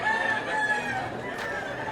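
A rooster at a cockfight in Puerto Rico crows in a long, strained, wavering call over a busy background of crowd murmur.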